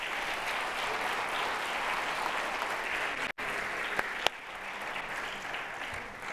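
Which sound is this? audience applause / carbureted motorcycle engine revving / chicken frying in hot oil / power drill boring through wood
audience applause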